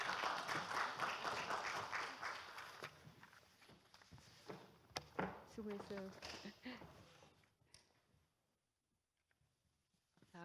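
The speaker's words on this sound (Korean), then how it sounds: "여러분 큰 박수 보내주십시오" Applause rises from a conference audience at a regional newspaper content competition judging session, faint and distant, tapering over several seconds into quiet as a voice speaks briefly.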